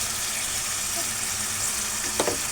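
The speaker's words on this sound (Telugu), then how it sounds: "ఉప్పు వేసుకొని ముక్కలకి బాగా పట్టేలాగా మనం ఫ్రై అనేది కలుపుకోవాలి" Mutton pieces frying in a pan with salt while being stirred, giving a steady close sizzle throughout with a brief clatter of the stirring utensil near the end.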